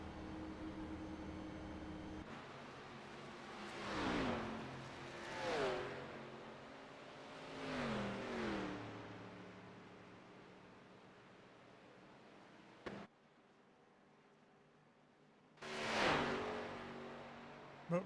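Onboard engine of Hal Amy's No. 3 ARCA race car at Daytona, carrying some damage, roaring close with repeated rising and falling pitch sweeps, briefly cutting to a low hum before surging loud again.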